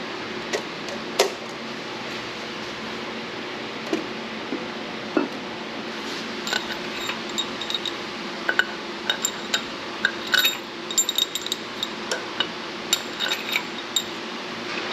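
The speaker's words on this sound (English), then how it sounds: "put the head on, and sit the bolts in there" Scattered light metallic clinks and taps sound close by as a cylinder head is set onto a junkyard LS V8 and its head bolts are dropped into place, with quiet gaps between the sharp contacts.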